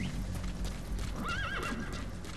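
A horse in the video game Metal Gear Solid 5: The Phantom Pain gives a short, wavering whinny with clip-clopping hooves, fairly quiet and heard alone without talk.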